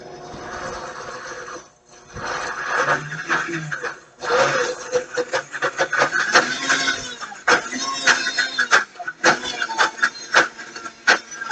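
A home ice cream maker churns plant-based vegan fruit ice cream, grinding and rattling in uneven bursts with brief pauses while a person talks over it.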